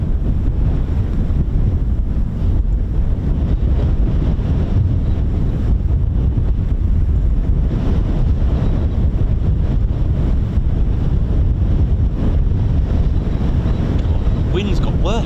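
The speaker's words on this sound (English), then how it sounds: "Wind's got worse, hasn't it?" Strong wind buffets a microphone at the RAF Holbeach air weapons range in Lincolnshire: a loud, steady roaring rumble lasting the whole stretch, with faint talk beneath it.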